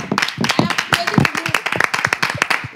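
Scattered hand clapping from a small group congratulating colleagues, irregular quick claps running under steady talking throughout.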